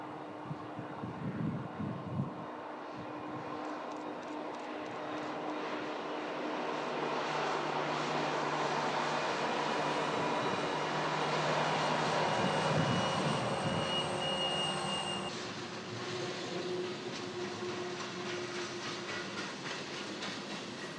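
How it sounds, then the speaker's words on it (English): An eastbound Southern Pacific freight train hauled by three six-axle diesel locomotives at Cajon Pass, a steady engine roar building as it approaches, peaking loud, then easing off to a lower rumble as it passes. "what's coming down is an eastbound SP train powered by 3 6-axle diesels"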